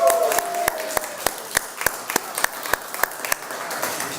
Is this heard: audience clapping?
yes